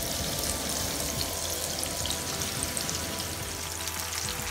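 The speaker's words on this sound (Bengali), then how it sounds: "এখানে পেঁয়াজটা অনেকটা ভাজা হয়ে গিয়েছে" Onions fry in a pan during village-style Bangladeshi cooking, giving a steady, dense sizzle that carries on evenly throughout with no talking.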